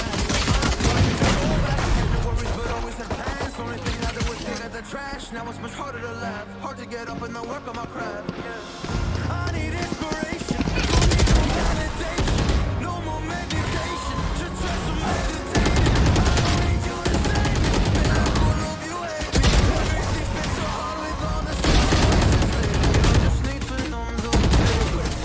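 Rapid automatic gunfire in the tactical shooter Valorant, loud and sustained in dense bursts with brief pauses, firing from a player jumping through smoke, with game sound layered over it.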